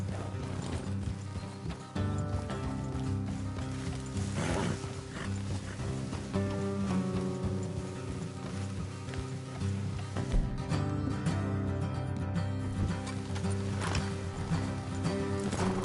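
Horse hooves clip-clop in a steady rhythm over a continuous musical and ambient backdrop in a video game, with an occasional whinny and a dog barking.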